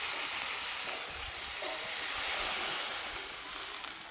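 Water poured into a pan of sautéing bitter gourd sets off a steady, loud sizzle and hiss that swells midway and then settles, with no talking.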